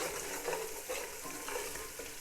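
Onions softened in a pan with a spoonful of ginger-garlic paste, stirred steadily with soft scraping and a gentle continuous sizzle, close and moderately quiet, no voices.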